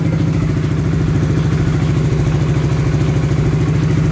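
A fuel-injected Honda motorcycle engine, just after a throttle body cleaning, runs close and loud with a steady, even thrum and a light mechanical clatter, holding a fairly constant note with no voices.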